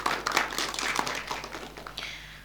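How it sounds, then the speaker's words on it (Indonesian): Studio audience clapping on a televised regional parliament dialogue program, a dense burst of many hands close by that thins out over a couple of seconds. "Boleh tepuk tangan kembali?"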